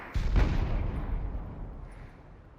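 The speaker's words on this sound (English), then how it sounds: "Zone grenade coming out." A zone grenade explodes in the Population: ONE VR battle royale game, a single deep booming blast that hits hard and then rumbles away over about two seconds, with no voices.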